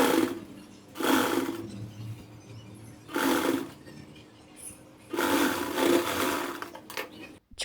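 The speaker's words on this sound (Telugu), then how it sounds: "ప్లీట్స్ని అండ్ క్లాత్ని చూసుకుంటూ ఒక స్టిచ్ వేసుకోవాలి." A sewing machine stitches through pleated saree fabric for a half-saree lehenga, running in three bursts of whirring stitches separated by short pauses, close and fairly loud.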